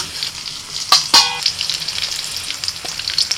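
Cauliflower frying lightly in shallow oil, a close steady sizzle with bright crackles and a couple of sharp clinks from a utensil against the pan, alone without speech.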